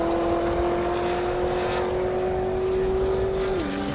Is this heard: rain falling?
no